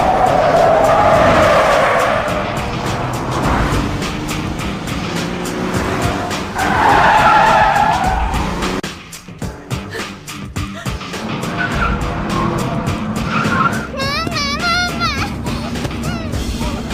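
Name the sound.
car skidding in a near collision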